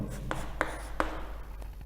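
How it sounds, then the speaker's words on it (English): Marker or chalk writing on a board during a maths lesson on permutations and combinations, soft scratchy strokes with a few sharper taps, close and quiet. "let's write it down here"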